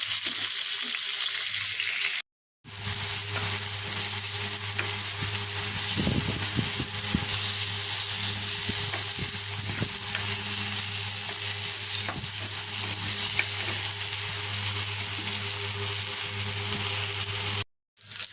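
Thick eggplant slices sizzle steadily in a pan with a little water, a continuous close frying hiss with occasional stirring clatter and two brief dropouts.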